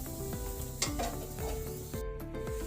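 A stuffed bathua paratha fries in oil on a griddle, giving a steady close sizzle broken by scraping and stirring strokes of a spatula. No one talks.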